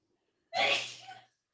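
A single loud sneeze from a woman bursts out alone after a brief quiet, with a sharp onset and a tail that trails off over about three-quarters of a second.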